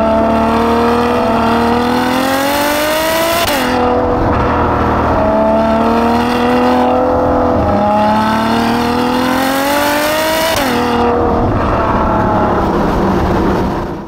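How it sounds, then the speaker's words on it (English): A Ferrari GTC4Lusso engine accelerates hard through repeated gear shifts, each pull rising in pitch then dropping, loud and continuous throughout. "The engine is a masterpiece. It's visceral and it sounds obscenely good."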